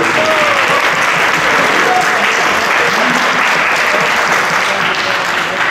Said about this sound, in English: we'd like to take a moment to recognize them and applaud them for their hard work.